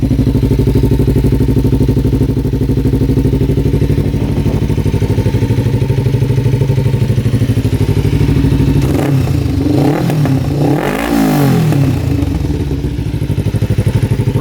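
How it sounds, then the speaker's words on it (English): A $1,000 motorcycle engine idles steadily after starting, a continuous mid-pitched running note with a brief throttle blip and clatter near the end, close and loud with no talking. "This thing is just running flawlessly. Fires up instantly every time."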